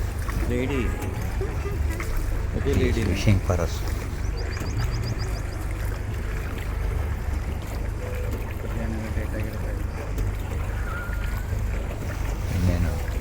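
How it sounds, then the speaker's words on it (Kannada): A boat rowed with the feet glides through the Ninh Binh caves in Vietnam, with soft water sloshing and steady wind noise running beneath nearly continuous talking. "ಕಾಲಲ್ಲಿ ಹೆಂಗೆ ಪೆಟ್ಲು ಮಾಡ್ತಾ ಇದ್ದಾರೆ"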